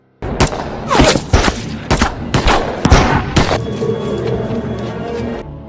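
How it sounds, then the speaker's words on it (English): Movie gunfire as snipers shoot down a man who raises his gun at a gang standoff: a rapid burst of loud, sharp shots, several in quick succession, followed by a ringing echo and lingering noise. "Seeing this, Stanley instead raised his gun, so the snipers shot him."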